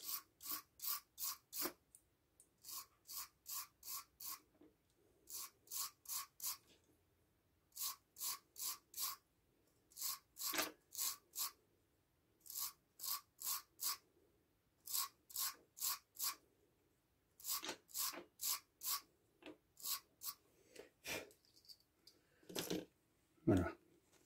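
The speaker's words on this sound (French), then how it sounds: "je vais brosser tout le tour avec la brosse métallique" A wire brush scrubs a carburetor in repeated bursts of quick rasping strokes, grouped in sets of three to five with short pauses between, close and fairly loud with no talk.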